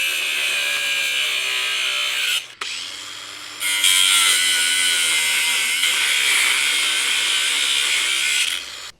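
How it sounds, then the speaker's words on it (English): A power saw grinds through old metal railing anchors set in concrete, a loud, harsh whine that runs continuously, breaks off briefly, then resumes at higher intensity for several seconds. "So I'm gonna go ahead and cut all these anchors off."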